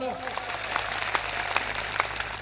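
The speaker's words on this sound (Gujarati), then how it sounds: "અહીંયા જેટલા પણ પોલીસ અધિકારીઓ છે એમના માટે એકવાર જોરદાર તાળીઓ પાડ લો." A crowd at a tribal rights rally applauds for police officers: steady, medium-loud clapping with sharp individual claps standing out, heard alongside a low background hum.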